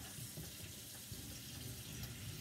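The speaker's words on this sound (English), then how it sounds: "I always start me a sink of hot soapy dish water so I can wash dishes along the way" Hot tap water running steadily into a kitchen sink to make soapy dish water, a continuous close splashing rush at even loudness throughout with no talk.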